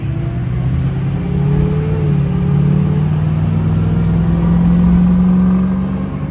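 A turbocharged truck engine, its turbo just cleaned and now faulty, revs hard at high throttle while stuck in gear and refusing to upshift, giving a loud, steady, close drone with a low rumble for several seconds.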